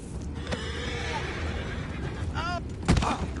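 Horses in the video game Red Dead Redemption give a clear whinny over a steady outdoor ambience, followed by a short, loud bang near the end.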